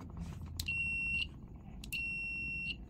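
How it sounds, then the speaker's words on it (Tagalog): A multimeter in continuity test mode gives two sustained high-pitched electronic beeps, each lasting roughly half a second to a second, separated by a short gap. "Ito yung beep test o yung continuity."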